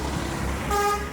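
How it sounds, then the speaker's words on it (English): Dense city road traffic rumbles steadily before a car horn toots clearly near the end, sounding over the engine noise. "the roads are already noisy with vehicles"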